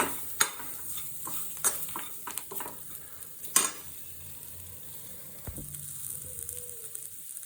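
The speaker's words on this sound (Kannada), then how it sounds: "ಕೊತ್ತಂಬರಿ ಹಾಕಿ ಕ್ಲೀನಾಗಿ ಬೇಯಿಸಿ ಸ್ವಲ್ಪ ಅದು ಸ್ವಲ್ಪ ರೋಸ್ಟ್ ಆಗಲಿ" Coriander roasting in oil in a pan for chicken pepper dry, with a soft steady sizzle and several sharp scrapes and taps of a stirring spoon against the pan, no talking.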